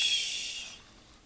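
A voice imitates a snoring pig, one long breathy, hissing snore that fades out, close and alone.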